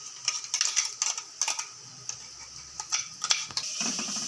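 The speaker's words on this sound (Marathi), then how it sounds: "ही मिरची लसूणची पेस्ट अशी छान परतून घ्यायची" Chili garlic paste sautéing with browned onions in a pan, a soft sizzle under repeated scraping stirs and light utensil taps, close and fairly quiet.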